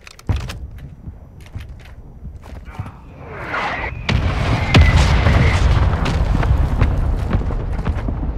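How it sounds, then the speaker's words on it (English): Mortar strike in the shooter Call of Duty: Warzone 2.0 on Ashika Island, with scattered sharp impacts followed by a louder run of rumbling explosions and a passing whine as the barrage lands, growing heavier toward the end. "Friendly mortar strike on the way."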